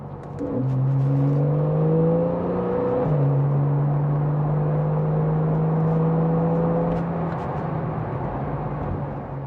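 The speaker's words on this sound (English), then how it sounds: "it also activates the sports exhaust, and it sounds glorious" A Porsche 911 Carrera S (991.1) with sports exhaust in sports mode revs and holds a steady, throaty exhaust drone, rising in pitch briefly before settling into a loud, sustained note.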